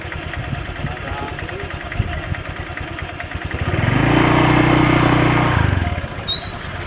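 A motorcycle engine idles close by with a steady mechanical putter, rising louder and rougher for a couple of seconds midway before settling back.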